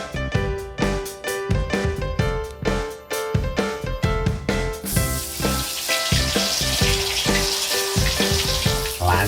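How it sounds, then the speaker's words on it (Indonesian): Spice paste (bumbu) sautéed in a pan, starting under a rhythmic music bed, then breaking into a loud, continuous sizzle of frying with occasional stirring, no voices. "Aku tak numis bumbu sik kono ya"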